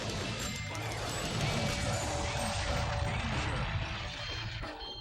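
Glass shattering as it is shot in a PlayStation 2 light gun game, a loud sustained crash of breaking shards with mechanical clatter lasting several seconds before tapering off.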